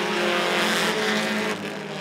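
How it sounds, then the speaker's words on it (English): Bandit-class race cars roaring as they accelerate at the green flag at Rockford Speedway, a loud dense engine blare that swells and then fades slightly as the pack pulls away. "They're going to pick up speed and green flag, and we're racing."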